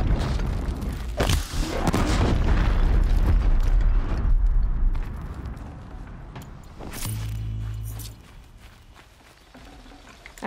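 A bomb goes off in Horizon Zero Dawn: a loud, sustained explosive rumble that slowly fades, then a lower hum and a few softer thuds.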